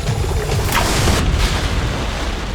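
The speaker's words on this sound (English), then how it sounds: "Whoa, look at that explosion," Concentrated hydrogen peroxide reacting explosively with food coloring indoors, a loud broadband rushing burst with a sharp onset and hissing spray that stays dense and sustained, no voices.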